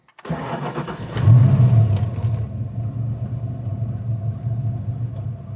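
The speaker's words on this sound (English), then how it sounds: "let's see what this new throwout bearing sounds like" Ford Foxbody Mustang engine with a freshly installed throwout bearing cranks and catches, surging briefly then settling into a steady, smooth idle rumble close by, with no voices.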